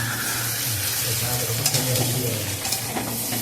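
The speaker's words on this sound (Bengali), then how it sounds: "এবার আমি মাংসের মধ্যে আলুগুলো দিয়ে দিয়েছি। মাংসটাকে আমি কিছুক্ষণ নাড়াচাড়া করে" Rooster meat and potatoes stirred in a pan, producing steady close sizzling with intermittent scraping and clinks from the stirring, loud and continuous, with faint voices in the background.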